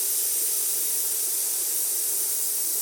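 Steam wand on a Zaconni lever espresso machine lets out a steady, even hiss for nearly three seconds, close by and unbroken, with no voices.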